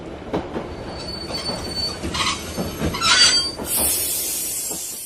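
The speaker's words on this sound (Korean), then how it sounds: "드디어 두 사람이 탄 열차는 평양역에 도착하였다" A train rolls into Pyongyang Station with rhythmic wheel clatter and rising metallic squeals of brakes, ending in a sustained high screech as it slows.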